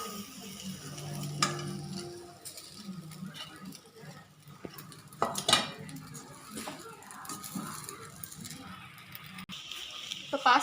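Cooked, drained pasta is stirred into egg in a pan, with soft scraping, light clatter of utensil on pan and faint sizzling. Someone talks over the cooking sounds.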